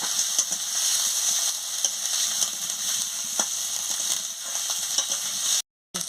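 Potatoes being stir-fried in a cooked spice masala give a steady, close sizzle with scattered scraping stir clicks throughout, briefly cutting out near the end.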